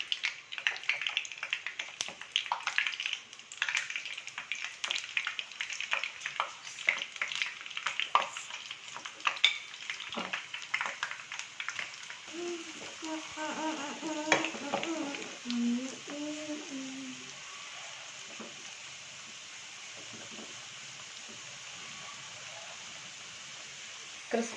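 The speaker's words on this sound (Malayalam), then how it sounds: "അപ്പോൾ നമ്മുടെ എണ്ണ ചൂടായിട്ടാണ് നമുക്കതിലേക്ക് ഈ ഫ്രൈ ചെയ്യാനുള്ള ഗോബി മഞ്ചൂരി ഇട്ട് കൊടുക്കാം" Gobi Manchurian pieces frying in hot oil make a steady, crackling sizzle with scattered clinks of stirring. The sizzle softens partway through while a voice speaks briefly, and the frying settles into a quieter hiss.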